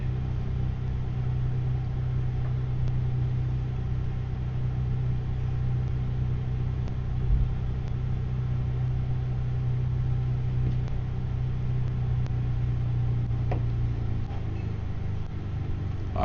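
Steady engine drone from a Diamond DA40 light aircraft flaring over the runway for a night landing, a constant low hum holding level throughout with faint rattles and no voices.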